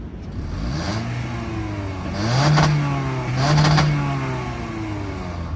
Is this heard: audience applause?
no